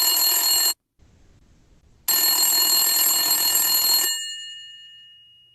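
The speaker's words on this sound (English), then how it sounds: "Let us call him in his cell phone" A cell phone rings loud and close in two electronic bursts, a short ring followed by a pause and then a longer ring that cuts off and trails away.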